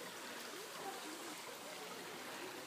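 A small stream flowing outdoors on a trip in Hungary, a steady, continuous broadband rush of water with no pauses.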